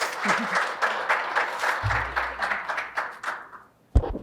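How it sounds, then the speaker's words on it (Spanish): An indoor audience at a talk gives sustained applause with dense, even clapping that tapers off, followed by a sharp bump near the end. "Le damos un aplauso a Robert."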